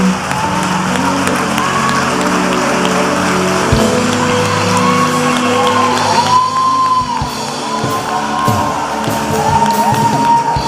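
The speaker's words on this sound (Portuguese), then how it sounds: "Dê um aplauso a Ele." A congregation applauding during a church worship service, loud sustained clapping mixed with shouts and whoops over lingering music.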